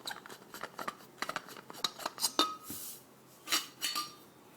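A metal spoon and stove ring are handled inside a bottle as packed hiking gear, giving quiet, close clinks and scrapes in irregular bursts.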